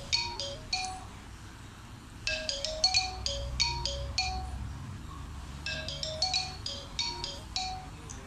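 A mobile phone rings with an incoming call, its melodic electronic chime repeating in bright looping phrases at moderate volume, close by, with brief pauses between cycles.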